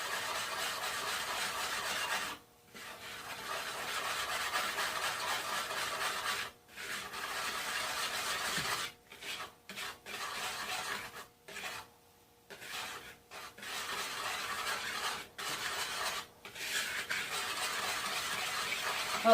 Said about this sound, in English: Getting all our dry ingredients mixed really well